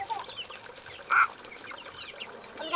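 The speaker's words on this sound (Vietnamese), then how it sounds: "Con gà. Con gà túc túc." A chicken clucks close by in a short series of scattered clucks. One sharper, louder cluck stands out in the middle, and another rises near the end.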